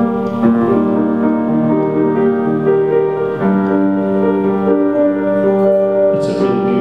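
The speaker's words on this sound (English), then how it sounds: "And the ending of the Confrontatis sounds something like this." Choir singing the closing bars of the Confutatis from Robert Brewer's Voca Me, sustained harmonized voices holding and shifting chords at steady loudness, heard alone without talk.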